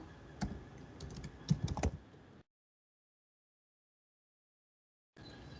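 Keys clatter as values are typed into a signup form on a computer keyboard, a quick irregular run of close clicks that stops abruptly, followed by silence and then faint room noise.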